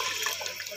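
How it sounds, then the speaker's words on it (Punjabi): Water poured into a pan of cooking potato and tomato curry to make a gravy, a steady close splashing pour with no talk. "ਹੁਣ ਮੈਂ ਥੋੜ੍ਹਾ ਜਿਹਾ ਪਾਣੀ ਪਾ ਲੈਂਦੀ ਹਾਂ ਤਾਂ ਕਿ ਸ਼ੋਰਬਾ ਬਣਾ ਲਾਂ"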